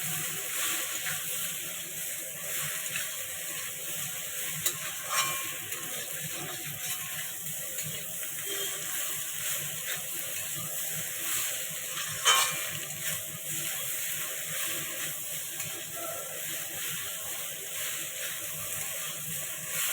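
Potato and jackfruit pieces fry in oil in a pan with fried spices for a vegetarian jackfruit curry, a steady soft sizzle with occasional stirring scrapes and clicks running evenly throughout, no voices.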